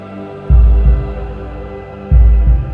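Two deep double-thump heartbeats, each a low, soft lub-dub, rise out of a steady background hum with a pause between them, with no other sound.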